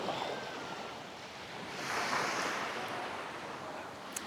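Surf washing onto the long sandy stretch of Kalamaki beach on Zakynthos, Greece, a steady soft roar with a gentle swell midway, wind brushing the microphone and no voices.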